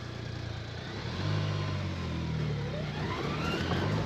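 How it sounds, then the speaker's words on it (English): A CF Moto U10 Pro side-by-side in high range and turf mode takes throttle, its engine droning steadily and then rising in pitch and loudness as the clutch disengages, close and continuous with no talk. "You hear that clutch disengage?"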